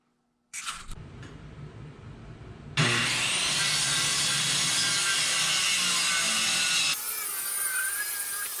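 Wood being cut for concrete forms for a two-story shed, a continuous loud power-saw whine that starts after a half-second pause, steps up sharply near three seconds and eases slightly toward the end, with no talking.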